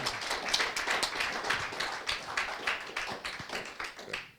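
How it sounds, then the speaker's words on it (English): Audience applause following a conference presentation on neural-network video enhancement, a dense patter of many hands clapping at steady volume in a room, with no talking over it. "Well, first you get an applause."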